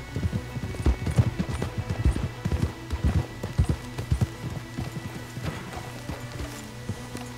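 Horse hooves clip-clop in the Western video game Red Dead Redemption 2, a steady, busy patter of hoofbeats over a low outdoor ambience that slows and thins near the end.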